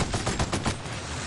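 Rapid gunfire from a weapon in The Outer Worlds video game, a quick burst of several loud shots in a steady rhythm over about a second, with no talking.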